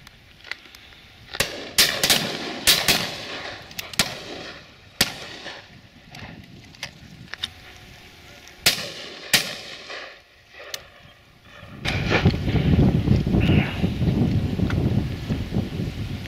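Shotgun blasts ring out at a pheasant and partridge shoot, a dozen or so sharp cracks at irregular intervals, some close and loud, others further off, followed by a stretch of heavy wind rumble on the microphone.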